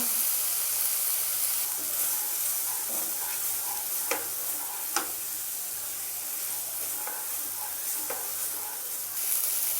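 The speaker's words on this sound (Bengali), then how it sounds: "সামান্য একটু জল দেব মশলাটা কষানোর জন্য, লবণ দেব" Spice paste with Kashmiri chili powder and a little water frying in a pan for a ridged gourd and prawn coconut dish, a steady close sizzle and hiss with occasional soft stirring scrapes.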